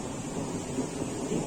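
Low rumbling thunder during a thunderstorm, a steady broadband roar with rain-like hiss, continuous and fairly faint throughout.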